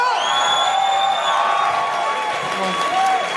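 A live audience of about seventy people at a podcast taping claps and cheers in a dense, sustained wave, with whoops rising above the din and voices mixed in.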